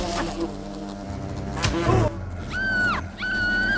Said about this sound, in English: Kill all the wasps.